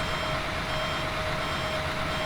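Steady reversing-style warning beeps from a tow truck lifting a Honda Accord in the Rigs of Rods driving game, a continuous high tone under a dense engine drone, loud and unbroken.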